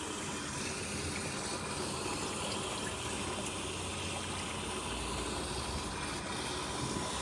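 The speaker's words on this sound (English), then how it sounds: "So the canister filter there is being backwashed." Water rushes and trickles steadily while a canister pond filter is backwashed, a constant broadband wash of pumped flow that stays even and moderately quiet with no talking.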